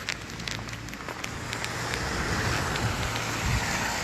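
Wind drives snow through the streets of Dijon during a heavy January 2019 snowfall, a loud, continuous blustery roar with low buffeting rumbles that thickens toward the end, with no voices.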